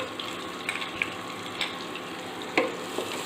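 Crushed garlic and green chili sizzling steadily in hot oil on a low gas flame, a soft continuous frying hiss with a few small pops and stirring clicks, close and moderately quiet.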